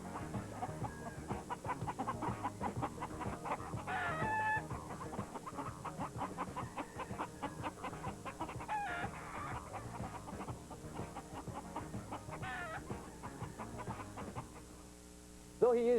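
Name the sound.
chickens clucking and rooster crowing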